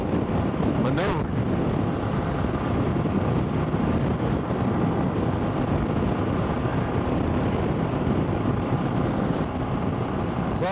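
Loud, steady wind buffets a motorcycle rider on a country road as a crosswind blows in off an open field, a continuous roar that fills the whole stretch without letting up.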